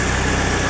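A carbureted 1.8 AP engine fitted in a Lada Niva idles with miswired, over-rich tuning, a brief close, steady low throb with even rhythmic pulses.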